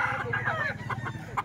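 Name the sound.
chicken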